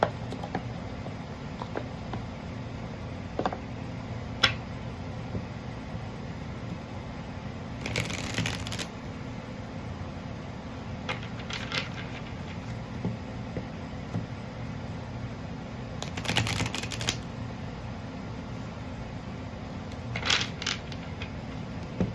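Tarot cards are shuffled and drawn in a few brief riffling bursts, spaced several seconds apart over a steady low background hum, with no talking.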